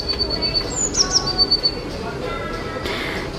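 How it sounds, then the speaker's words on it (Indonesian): Outdoor birdsong with thin, high chirps and short trilling calls in the first half of the scene, over a low steady background hum. "suara burung"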